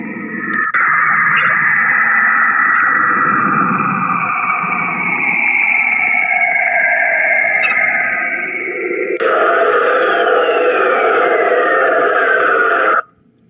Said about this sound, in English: And this is the sound of the moon right here.